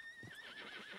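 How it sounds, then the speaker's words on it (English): Horse in a video game giving a short, wavering neigh over a faint bed of background noise, with a soft thud of hooves partway through. "Ow, you fucker of a horse!"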